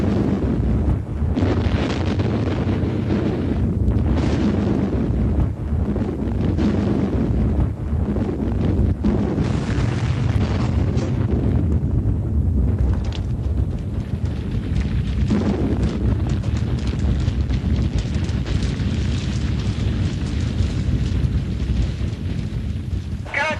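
A film pyrotechnic explosion set off on a movie set, heard as a dense, continuous low roar and rumble with wind-like buffeting, loud and unbroken throughout.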